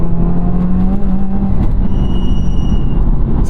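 Heard from inside the cabin, the turbocharged engine of a 2019 Subaru WRX accelerates with a loud, steady drone that holds its level throughout.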